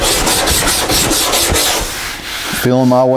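Soft Bondo body filler is hand-sanded lightly in crosshatch strokes, making close, loud, rhythmic rasping passes about twice a second, followed by a brief tonal hum at the end.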